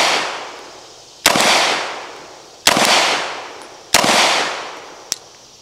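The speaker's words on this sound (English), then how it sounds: "that is drawing and firing your handgun" Three sharp handgun shots crack out about a second and a half apart, each followed by a broad ringing decay, with a lighter fourth report near the end, loud and close on a firing range.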